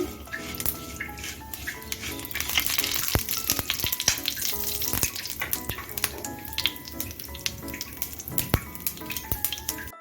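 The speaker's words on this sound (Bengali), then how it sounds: "এখানে আমি প্যানে এক টেবিল চামচ সাদা তেল দিয়ে গরম করে নিয়েছি এখন কালো সর্ষেটা দিয়ে দিচ্ছি সর্ষেটা একটু ভেজে নিচ্ছি" Black mustard seeds fry in hot white oil in a pan, a dense continuous sizzle studded with sharp crackles and pops from spluttering seeds, loud and close with no talking.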